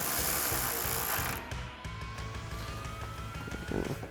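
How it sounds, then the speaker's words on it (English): A ratchet with a 10mm socket drives a headlight screw during a Morimoto XB LED headlight install on a Toyota 4Runner, giving a close, rapid run of pawl clicks in steady rhythm that ends with a brief final burst. "we'll go ahead and grab our 10mm socket on our ratchet again"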